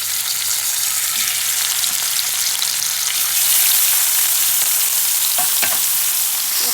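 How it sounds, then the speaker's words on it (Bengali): Pieces of rohu fish fry in hot oil in a pan, giving a loud, continuous crackling sizzle that swells slightly partway through, with a couple of faint utensil clicks near the end. "এভাবে আমি সবগুলি মাছ ভেজে নেব।"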